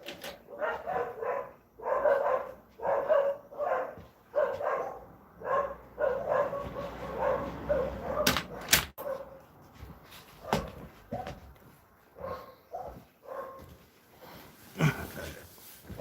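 A dog barks repeatedly in a roadway at night, a steady run of sharp barks and yips at moderate distance, with a few louder knocks and a voice talking faintly in the background.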